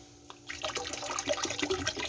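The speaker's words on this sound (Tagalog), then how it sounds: "Lagyan natin ng vinegar yung tubig." Vinegar poured into a bowl of water for pickling chili peppers in a Korean-style pickle, a steady close splashing pour that begins about half a second in and runs to the end, with no talking.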